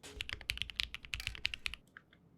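Rapid typing on a computer keyboard, a close run of crisp, uneven key clicks that slows and trails off into a few last taps, with no voices.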